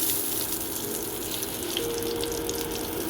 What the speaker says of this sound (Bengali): এবার একটু কালো জিরে ফোড়ন দিয়ে দিচ্ছি।